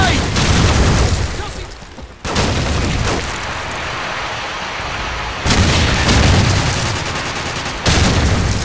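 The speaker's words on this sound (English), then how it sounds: "Tossing stun grenade!" A stun grenade bursts in Call of Duty 4: Modern Warfare multiplayer on PS3: loud, close gunfire and blasts, a sudden muffled drop, then a thin high ringing that lingers for a few seconds before the heavy firing returns.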